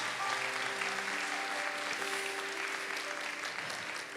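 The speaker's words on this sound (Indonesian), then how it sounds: "Sekali lagi berikan tepuk tangan buat Oslin." A continuous round of applause from a church worship audience, evenly loud for the whole stretch, with faint tonal sounds beneath the clapping.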